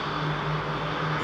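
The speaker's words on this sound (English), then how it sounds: "Number 2 engine starting on that" The number 2 engine of an Egypt Air Boeing 777 spools up at London Heathrow, a steady loud roar with a sustained low hum and broad hiss, heard from outside with no talk.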